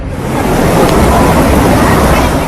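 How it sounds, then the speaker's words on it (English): Heavy rain and flash flooding, a loud, dense, continuous roar of broadband rushing noise without break, close and steady throughout. "Heavy rain."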